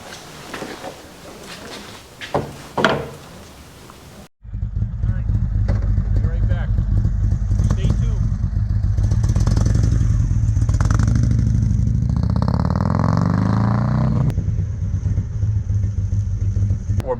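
Indian Chieftain motorcycle being ridden after a front suspension fork install: a short stretch of talk gives way to a loud, steady engine drone with a rising rev near the middle, then it settles back to a cruising rumble.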